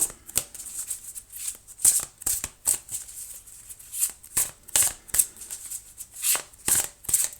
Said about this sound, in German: Ein bisschen noch mehr mischen.